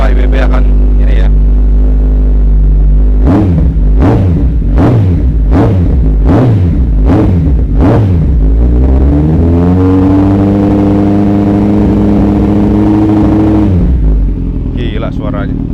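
A loud Kawasaki ZX-14R sport motorcycle with a throaty aftermarket exhaust blips its throttle in quick repeated revs, then holds a long, roaring high rev close by.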